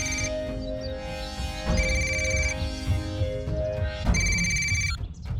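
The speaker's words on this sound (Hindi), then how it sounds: "भाई घंटी जा रही है।" A telephone rings in repeated electronic bursts, loud and close, with a steady tone sounding continuously underneath.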